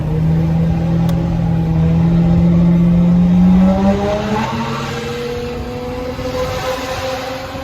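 A Mercedes S600 fitted with an F1 exhaust revs hard, its loud, close engine tone climbing and sweeping in pitch for several seconds before settling into a steadier drone.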